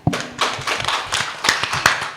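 Audience applause at an open debate between regent and vice-regent candidates, heard as a scattered burst of claps of moderate loudness with a few sharper individual claps standing out.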